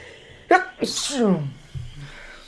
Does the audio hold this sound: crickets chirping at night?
no